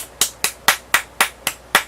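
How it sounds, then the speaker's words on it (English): A deliberate slow clap: seven single, evenly spaced hand claps about a quarter second apart, crisp and close against a quiet background. "Oh wait, should that be a slow clap?"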